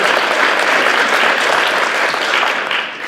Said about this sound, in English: Let's give them all a round of applause for being here today.